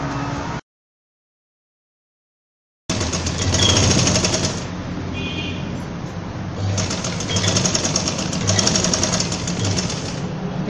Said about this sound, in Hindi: अब इसके ऊपर सिरे की या एक फाइव पॉइंट की हम सिलाई लगाएंगे प्रेस करने के लिए